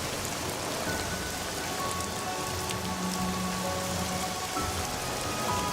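Heavy rain pours steadily onto surfaces, a dense, even patter with scattered nearby drips and no pause.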